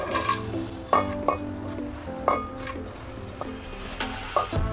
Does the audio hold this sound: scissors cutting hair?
no